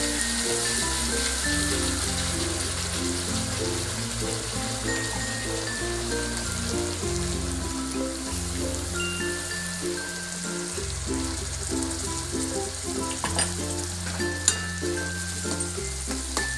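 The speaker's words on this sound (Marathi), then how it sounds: "आता यामध्ये घालणार आहोत कांद्याची पेस्ट." Onion paste fries in a pan with a loud, steady sizzle that goes on throughout, alongside a little stirring.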